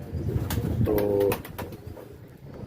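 Pigeon cooing from a female pigeon among a mixed group of pigeon breeds, a short low throaty coo heard close by amid rustling, then fading to quieter background.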